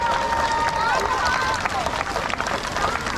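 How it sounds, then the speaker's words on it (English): At an end-of-year school graduation celebration, an audience applauds the third grade teachers with dense clapping and crowd noise, loud and continuous, while shouts and a voice ring out over it. "did we give our 3rd grade teachers a big round of applause?"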